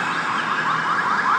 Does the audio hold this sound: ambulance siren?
yes